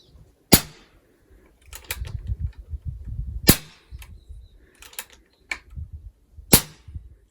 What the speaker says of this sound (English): I'm going to burn 3 shots just to get some new air to cycle into the gun